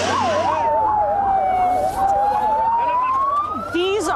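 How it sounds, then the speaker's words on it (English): Ambulance sirens wailing as ambulances carry the first rescued workers out of a collapsed road tunnel, a loud, steady warbling siren with a second pitch weaving above it over continuous crowd and traffic noise. "These are the ambulances with the first workers that have come out from inside the tunnel."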